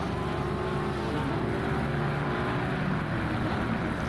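Lexus race car in a sim racing game at Misano, a continuous loud engine roar at high revs, steady and unbroken, with no talking over it.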